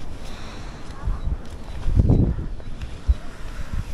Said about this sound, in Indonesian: Anginnya masih kencang terus.